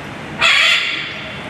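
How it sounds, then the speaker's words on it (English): A red-fronted macaw at the Tulsa Zoo gives one loud, harsh squawk that starts abruptly and fades over about a second, close and alone. "chatty bird here is called a red-fronted macaw"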